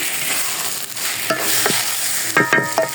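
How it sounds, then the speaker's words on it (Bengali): Dried red chilies, bay leaves and Bengali five-spice fry in hot oil, a loud, steady close-up sizzle broken by a few clinks and scrapes of stirring, with no voices. "তেল দিয়েছি শুকনো লঙ্কা তেজপাতা দিয়ে দিলাম পাঁচফোড়ন দিয়ে দিলাম"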